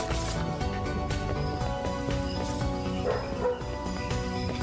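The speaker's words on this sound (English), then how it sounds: "Oh, his neighbors do have dogs, that's true." Neighbours' dogs bark and yip repeatedly, distant and muffled beneath a steady dense background of game music or noise.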